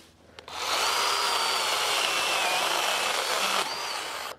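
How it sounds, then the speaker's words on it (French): A battery-powered pruning chainsaw revs up and cuts steadily through a wooden branch, a loud, close, sustained whine with a slight pitch wobble that drops off near the end before trailing on briefly. "je vais le couper en plusieurs bouts"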